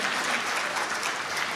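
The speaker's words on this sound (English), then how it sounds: "make a lot of sound by clapping with your hands open" Audience at an agricultural innovation conference clapping hard with open hands, a dense, loud, sustained wall of applause with no gaps.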